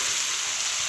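Fried cauliflower hits a sizzling, cooked-down spice paste in hot oil, producing a loud, continuous bright hiss of frying close by with no voices.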